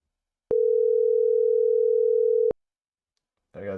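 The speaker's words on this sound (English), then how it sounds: "I'll just give you a call right here." Telegram outgoing call ringing tone: a single steady electronic beep lasting about two seconds, clean and alone against silence, followed by a voice starting to speak.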